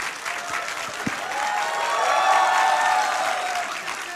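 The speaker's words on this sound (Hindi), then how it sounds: "दोनों तरफ इन्हीं के लिए ताली बज रही है" Studio audience at a televised Hindi political debate show applauding steadily, a dense sustained wash of clapping that swells in the middle and holds loud throughout.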